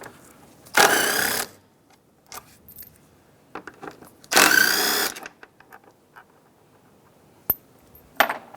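A hand ratchet works the 10mm bolts on a 2007-2015 Mazda CX-9 air intake tube in two loud clicking bursts, with fainter taps and clinks between them and no talk.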